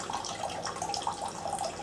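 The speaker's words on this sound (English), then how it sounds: "we're going to drain this water out of this conditioner" Water draining out of a salt-free water softener conditioner tank during servicing, a steady close splashing, gurgling trickle without pause.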